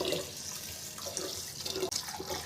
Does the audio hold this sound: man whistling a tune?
no